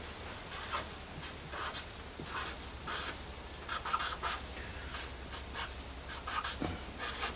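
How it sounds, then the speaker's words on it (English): A permanent marker squeaks and rubs across boat-building templates as labels are written, quiet close scratchy strokes in short repeated bursts. "I'm going to relabel them with my permanent marker"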